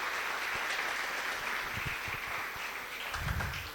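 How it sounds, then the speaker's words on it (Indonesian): Seminar audience applauding, a steady dense wash of many hands clapping held at an even level for several seconds, with a brief low rumble near the end. "Adik-adik, kita aplaus sekali lagi"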